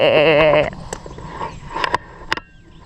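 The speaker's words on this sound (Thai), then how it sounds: "ตัวนี้เรียกว่าแพะนะไม่ใช่แกะ" A loud, quavering goat bleat rings out nearby on a farm in Lao Khwan, Kanchanaburi, Thailand, followed by scattered clicks and small thumps in a quiet outdoor setting.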